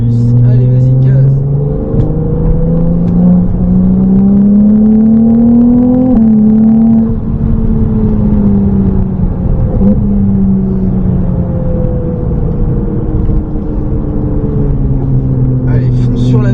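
A Ferrari 296 GTB accelerating hard on the Trappes race circuit during a driving course, its engine a loud sustained drone that climbs and falls in pitch through the gears, with an instructor talking over it throughout.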